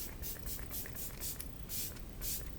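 Fine mist setting spray spritzed close to the face gives soft, faint airy hisses in several quick separate puffs.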